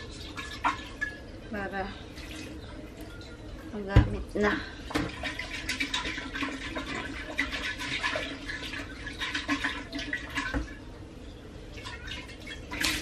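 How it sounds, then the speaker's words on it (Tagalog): Water poured into the peach-shaped shell of a handheld fan, splashing and trickling in bursts with a sharp knock midway, while someone talks over it. "Lagyan na natin ng tubig itong peach shell."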